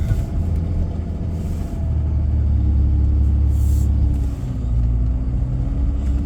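A four-wheel-drive truck grinds up a narrow, snow-covered mountain highway, Highway 38, with a low, continuous engine rumble and road drone close by, the pitch shifting slightly as it climbs.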